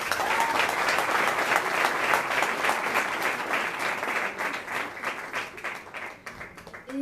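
Warm, sustained applause from an audience at a talk on Rifian feminism, continuous and even, tapering slightly toward the end.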